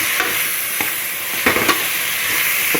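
Tomatoes with a little salt sauté in a pan with a steady, close hiss and sizzle, broken by a few scraping stirs from a spatula.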